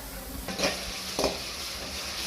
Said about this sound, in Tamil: இப்போ நம்ம தக்காளி போட்டுக்கலாம். தக்காளி கொஞ்சம் வதங்கட்டும்.